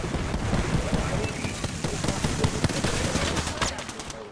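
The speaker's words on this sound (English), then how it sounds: "Stand back, knuckle cluster's firing." Rapid automatic gunfire from a knuckle cluster weapon in a shooter video game, dense bursts of crackling shots running continuously under a noisy mix of other game sounds and voices.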